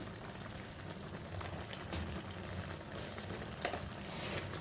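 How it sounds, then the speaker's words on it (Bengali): Jackfruit curry bubbles gently in a pot after water is added, a faint, steady simmer with soft liquid pops and occasional stirring clinks, no talking. "দেখো জল দিয়ে দিয়েছি, আর একটু ভালো করে ফুটে নিই।"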